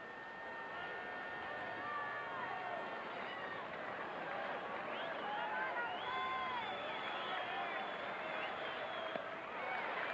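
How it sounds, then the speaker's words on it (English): A sellout Red Sox crowd at Fenway Park cheers on Jose Offerman in a night game against the Texas Rangers, a broad, steady roar of distant voices and whistles that lasts throughout. "The remains of a sellout crowd trying to pump up Jose Offerman now"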